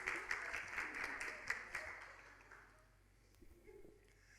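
A church congregation at a Sunday celebration service claps for the choir, a soft burst of applause with a few sharper claps that fades away after a couple of seconds, leaving faint room noise.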